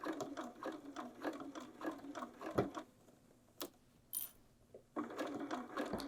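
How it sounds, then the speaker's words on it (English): A sewing machine stitches through the thick layers of a bag gusset, running in quick rhythmic bursts that stop briefly and then start again, close and moderately quiet. "you're just going to sew through all those layers"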